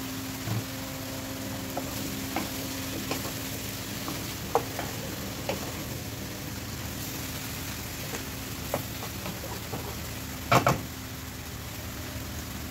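Chicken and fresh mushrooms cook in a pan with a moderate, even sizzle, punctuated by scattered light clicks and taps of stirring, without talk.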